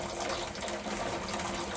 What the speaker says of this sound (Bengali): তো দেখো এখন হচ্ছে জলটা উতলে গেছে